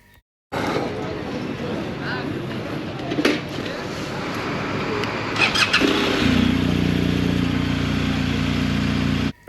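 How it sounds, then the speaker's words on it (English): A motorcycle engine starts near a border crossing and settles into a steady idling rumble after some outdoor street noise and shuffling, close and fairly loud. "I love that sound of the bike starting."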